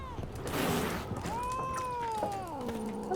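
A cat in the video game The Witcher 3 lets out a long, drawn-out meow that bends up and then falls, sitting over soft game ambience with faint background noise.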